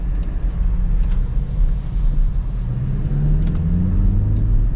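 The small four-cylinder engine of a 2025 Land Rover Defender P300 revs up and down nearby, a buzzy, rising and falling drone that stays loud throughout.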